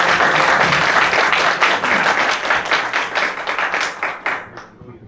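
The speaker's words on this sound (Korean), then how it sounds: "큰 박수로 맞이해주세요." Audience applause welcomes a presenter at an anniversary ceremony, a dense, steady wash of many hands clapping that stays loud for several seconds before thinning and fading out at the end.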